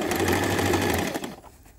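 A home sewing machine stitches two layers of fabric in a steady, loud mechanical whir with a low hum, running about a second and a quarter before stopping abruptly into quiet room tone.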